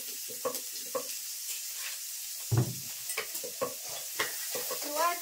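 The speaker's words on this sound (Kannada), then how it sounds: "ಇದು ಮುಲ್ಲಂಗಿ ಗಡ್ಡಿ ಇದರಿ. ಇದು ಹುರ್ಕೋತೀನ್ರಿ." Radish frying in oil in a pan while being stirred, soft scraping stir strokes and light sizzle at close range, with a heavier clank of the utensil near the middle.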